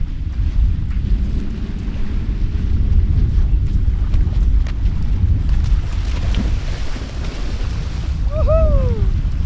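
Steady low rumble of ocean surf and wind at Koh Phangan, Thailand, continuous and fairly loud throughout, with a brief high whistling tone near the end.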